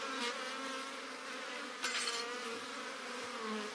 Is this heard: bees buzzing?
yes